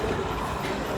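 Model trains delivering food at the Výtopna railway-themed restaurant in Prague; a close, steady rumbling rattle of the small train rolling along its track fills the brief moment.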